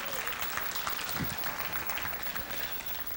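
Congregation clapping hands during a Sunday evening church service, a steady wash of applause at moderate level with a low voice rising briefly underneath.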